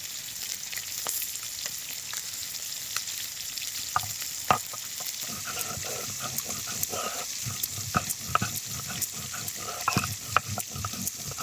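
Whole cumin seeds sizzle in hot oil for a taro curry, a steady close fry with scattered pops and scraping stirs throughout, no voices.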